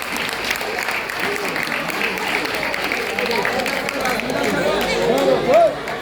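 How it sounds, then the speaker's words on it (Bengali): Audience applause at a school annual program after a child's dance performance, steady dense clapping across the whole stretch with crowd chatter mixed in and a voice rising near the end. "আমার গৌরীমা কস্তুরীর জন্য একটা জোরে হাততালি"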